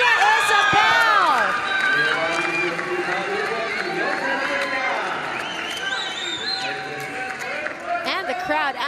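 A women's volleyball Olympic qualifying crowd in a Japanese arena cheers and chatters loudly, the noise peaking at first and then settling into a steady roar under a commentator's voice.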